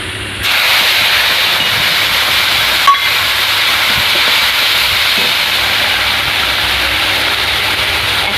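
Spice paste of ground black mustard and black cumin sizzling steadily in hot oil for an Indian hilsa curry, a dense continuous hiss close up that starts abruptly, with a faint clink partway through.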